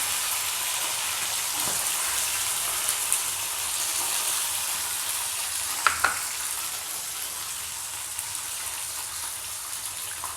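Samosa filling of peas frying in hot oil with the gas switched off, giving a steady, close, even sizzle throughout with a few faint clicks and no voices.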